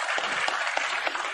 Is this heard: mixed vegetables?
no